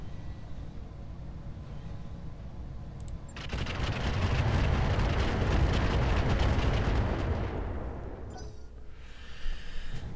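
Weapons fire at enemies in the mech combat game Roguetech. It swells into a long, loud roaring barrage of rapid cracks and booms that lasts several seconds and then fades. Quieter rumbling comes before and after it.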